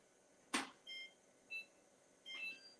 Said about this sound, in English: Did I set the timer? No. Let's do 4 minutes.